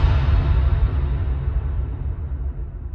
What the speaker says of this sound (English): there's a crash to start the song, which you can hear throughout the rest, which is Impact Smite from Oversampled's Polychrome.